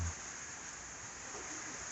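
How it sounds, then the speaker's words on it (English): Steady rain falling on a farm during a cattle pregnancy-checking day, a faint, even hiss of continuous drops with no distinct voices. "So we wait while it rains."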